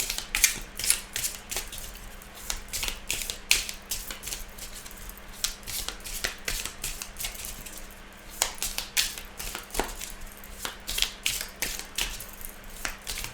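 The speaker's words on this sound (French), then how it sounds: "Alors, je remélange un petit peu." Tarot cards being shuffled, a close, quiet run of quick papery flicks and taps in irregular bursts against soft background hum, with no talking.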